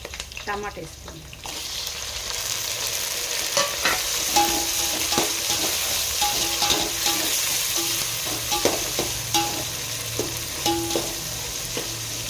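Onions and tomato frying in a pan, a constant crackling sizzle broken by repeated scraping and clinking strokes of a spoon against the pan, close and fairly loud.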